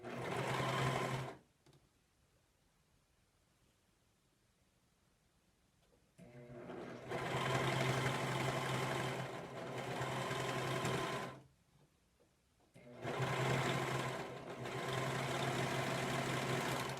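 A quilting sewing machine doing free-motion quilting stitches in three loud mechanical bursts separated by quiet pauses, its motor whirring steadily and close while running.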